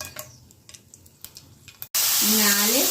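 Whole spices, dried red chillies and cardamom, hit hot oil in a pan for a paneer gravy, with quiet clinking and stirring giving way to a sudden loud, steady sizzle.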